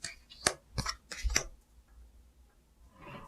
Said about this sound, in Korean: 일단 카드 나열을 쭉 해보고